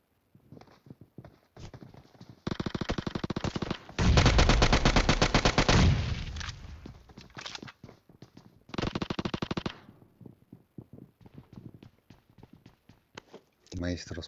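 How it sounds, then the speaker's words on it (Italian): Gunfire in PUBG Mobile, scattered single shots mixed with two long automatic bursts and a heavier sustained volley in the middle, with footsteps and voices between the firing. "Maestro spara colpi a caso."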